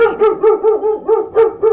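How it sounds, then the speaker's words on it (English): A dog barks at the mailman indoors, a loud, close string of about eight sharp barks in a fairly even rhythm. "Sorry, my dog."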